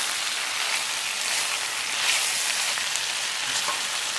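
Sliced sausage sautéing in a pan for shawarma gives a steady, close sizzle that stays constant throughout with no voices.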